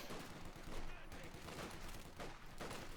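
Company of Heroes 2 battle gunfire: an American rifle squad shooting near a church and an MG42 position, rendered as a continuous dense crackle of rifle and machine-gun fire with a faint voice underneath.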